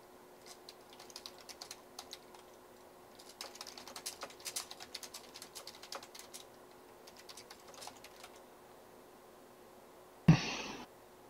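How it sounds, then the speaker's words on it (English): Keys clatter on a computer keyboard as a short message is typed into a game chat, scattered bursts of close clicks over a faint steady hum, ending in one sharper, louder keystroke near the end. "I'm just going to GG here, type it, get ready to push enter."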